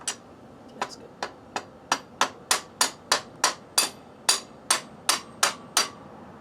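Sharp hammer blows drive the front wheel axle out of a Yamaha WR250 motorcycle, about fifteen ringing metallic strikes in a steady rhythm that grows louder and more regular, close by, with no talk.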